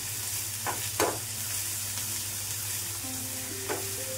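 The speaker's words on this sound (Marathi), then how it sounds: "कांदा छान ब्राऊन रंगावरती परतून घ्यायचा आहे।" Onion frying in oil in a pan while being browned for upma, a steady close sizzle running throughout with a few brief stirring clatters.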